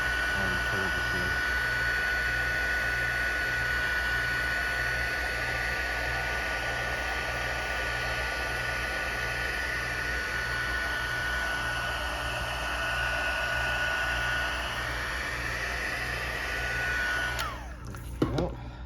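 A heat embossing gun blows steadily on the back of a heat-embossed faux Dutch tile to uncurve it, giving a constant whirring, hissing roar that holds close and loud for most of the clip before cutting off near the end.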